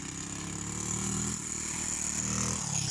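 An Orion quad bike engine driving through a swampy forest, holding a steady, fairly close motor drone with a slight rise in loudness partway through.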